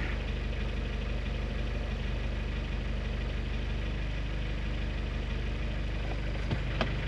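A boosted Hyundai G23BK car engine idles steadily while warming up, a continuous close rumble that stays even throughout, with a brief sharper knock near the end.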